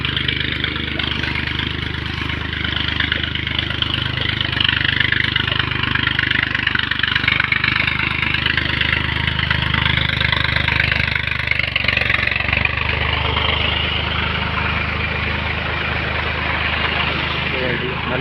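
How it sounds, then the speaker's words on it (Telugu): A tractor engine drones steadily as it ploughs a nearby village field, a constant mid-pitched rumble running without a break under the whole stretch. "పక్కలోనే ట్రాక్టర్తో దున్నుతున్నారు"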